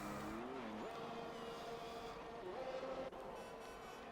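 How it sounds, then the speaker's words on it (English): A race car in the iRacing sim at the Abu Dhabi track, its engine note rising and dropping through gear changes and passing by, steady and fairly loud. "I hear a car."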